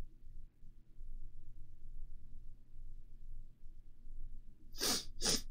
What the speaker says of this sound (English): Oh, I got a sniffle.